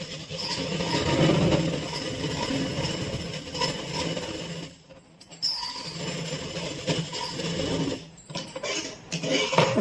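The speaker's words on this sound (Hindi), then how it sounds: "अब मैं इसको भी इस तरह से सिल देती हूँ। इस तरह से मैं इसको इसी तरह से सिलाई करती चली जाऊंगी" A sewing machine runs in long continuous stitching bursts along a kurti neckline, with a steady close mechanical whir that pauses briefly and then resumes, followed by short clicks and stops.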